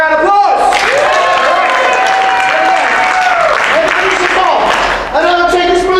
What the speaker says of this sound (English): Everybody give Al a big round of applause!